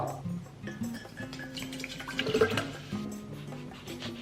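Water pours into a jug in a home kitchen while breakfast is prepared, a soft trickling fill that swells briefly midway and stays fairly quiet.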